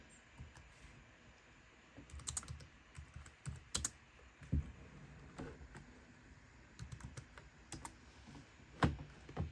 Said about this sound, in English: And then type in Hiren CD.